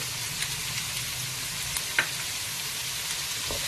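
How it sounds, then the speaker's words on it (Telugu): Onions frying in oil with added salt for pav bhaji, making a loud, even hiss that runs without a break, dotted by a couple of faint spoon clicks. "ఆనియన్స్ వేగేదానికి సాల్ట్ కూడా వేసేస్తున్నానండి"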